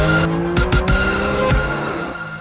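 A Porsche 911 GT3 RS on a racetrack gives a loud, close squeal from its tires under a steady engine drone, with a few sharp bursts around each turn; no one speaks.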